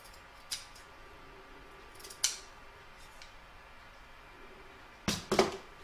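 Soft, quiet snips of scissors trimming fabric for a crazy patch stocking, a few isolated cuts followed by a closer cluster of crisp clicks near the end.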